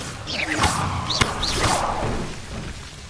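A fire spell cast in the video game Hogwarts Legacy, with a couple of whooshing swishes, a sharp thud and crackling effects over steady background ambience.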